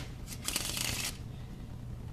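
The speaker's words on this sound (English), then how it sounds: "So here comes the coolest part of this shuffle, the bridging." A deck of playing cards is riffle shuffled and bridged, a quick close-up burst of fluttering card riffling lasting under a second before the room goes quiet, with no talking.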